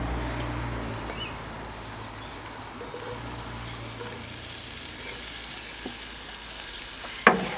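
Crushed garlic and mushrooms sizzling in a pan over a camp stove, a steady low frying hiss that holds evenly throughout, ending with a brief clatter.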